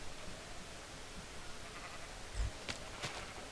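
A Minecraft sheep bleats once or twice, a faint short bleat amid quiet background noise with a brief thump, and no speech over it.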